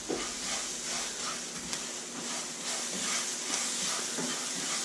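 Half a cup of onion sizzles steadily in a hot pan for Spanish rice, a continuous close frying hiss with faint crackles and no voices.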